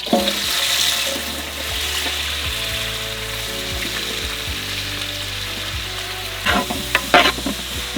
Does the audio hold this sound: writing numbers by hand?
no